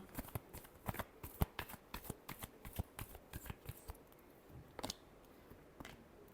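Tarot cards being shuffled by hand, giving a quick run of sharp, papery riffles and flicks in a quiet room, with a brief pause and a couple of final snaps near the end.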